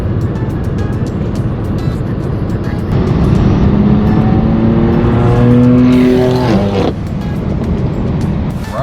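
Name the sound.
straight piped BMW M4 F82 driving on the road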